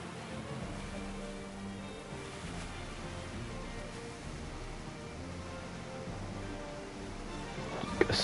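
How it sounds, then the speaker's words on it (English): Waterfall in the Final Fantasy XV video game, a constant broad roar of rushing water filling the whole stretch with no talk over it, ending in a brief sharp knock. "Go straight off the waterfall."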